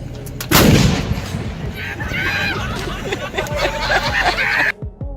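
A loud cannon blast booms near the start, followed by rumbling echoes and a crowd of people chattering and laughing before an abrupt cutoff.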